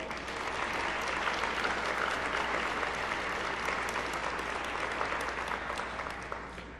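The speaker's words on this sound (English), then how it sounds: "may we have a big round of applause for everyone at Samsung who has made this night possible" Sustained crowd applause at an opening ceremony for a national video gaming championship, honoring the event's sponsor staff: steady, dense clapping throughout that eases slightly toward the end.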